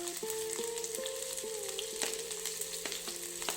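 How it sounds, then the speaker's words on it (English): Chopped straight-cut onions fry in hot oil in a pan, a steady close sizzle with a few faint clicks of the pan throughout, no voices. "Once the oil is heated, add the straight-cut chopped onions to the pan."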